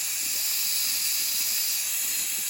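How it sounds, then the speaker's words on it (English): Steady, loud steam hiss vents from a Nuwave 13-quart electric pressure canner being released under a kitchen counter, a continuous broadband rush that holds level throughout without pause. "I'm going to turn it to release the steam."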